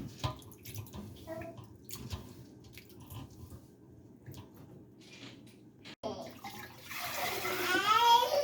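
Tap water runs and splashes in a kitchen sink as fresh produce is rinsed before being packed into containers, a steady close wash that swells louder toward the end, with faint clatter and a little talk underneath.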